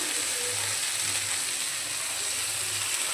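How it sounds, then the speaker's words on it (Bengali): Chopped onion and slit green chillies sizzle in a hot pan, making a steady, close, even crackling hiss with no voices over it. "দিয়ে দিলাম পেঁয়াজ কুচি আর কাঁচা লঙ্কা চেরা"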